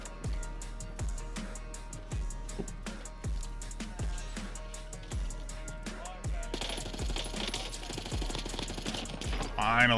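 Steady automatic rifle fire in Call of Duty: Warzone, a regular train of sharp shots roughly twice a second, then a denser, noisier stretch near the end, with a voice talking underneath.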